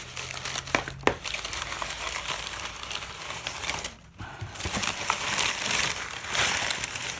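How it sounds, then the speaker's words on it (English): Fresh paper packing is pulled out of a knife box, making continuous crinkling and crumpling rustles, loud and close, with two brief pauses and a few sharp crackles. "we've got some fresh paper packaging, so it's not just flopping around in the box"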